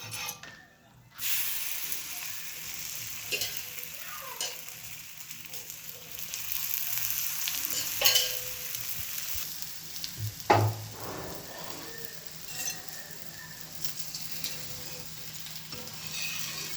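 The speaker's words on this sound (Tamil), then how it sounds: "ஈஸியாக விரட்டு நல்லா வேகணுங்க ப்ரௌனிஷாக வரணும்" A rice flour chapati fries in a pan with a steady, close sizzle and crackle, with occasional scrapes and taps of a spatula. No voices are heard.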